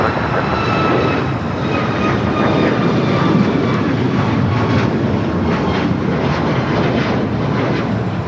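A United Boeing 737 MAX 8 takes off from runway 25 right at LAX, bound for Cleveland, its jet engines a steady, loud roar with high whining tones running throughout.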